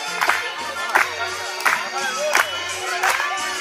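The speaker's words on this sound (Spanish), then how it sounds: "A ver las palmas" Concert audience clapping hands along to a live song: rhythmic, fairly close claps at a steady beat, falling about every 0.7 seconds over loud music.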